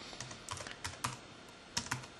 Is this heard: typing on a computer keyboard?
yes